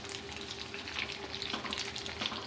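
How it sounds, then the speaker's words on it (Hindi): Potato kebabs (aloo cutlets) frying in a pan over medium heat give a steady, dense sizzle with crackling oil spatters throughout, close and continuous, with no talking. "मीडियम आंच पे ही मैं कबाबों को फ्राई कर रही हूँ"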